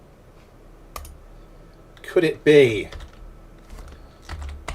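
Soft clicks from a computer keyboard as someone types, a few sparse key taps with a brief spoken phrase in the middle.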